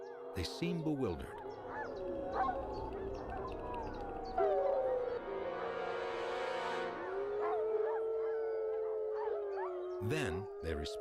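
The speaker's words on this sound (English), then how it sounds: "And it's a defensive howl." A wolf pack answers a rival pack with a defensive howl: several long, wavering, overlapping howls that rise and fall together and carry on for most of the stretch.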